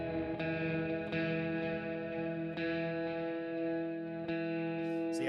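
Clean-toned electric guitar on the middle pickup position plays a sustained riff, chords ringing with a few picked attacks over about five seconds, no talking.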